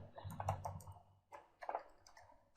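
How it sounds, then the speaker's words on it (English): Quick bursts of keystrokes on a computer keyboard, a few soft close clicks in two short clusters, faint and alone. "We'll go to Google and type download"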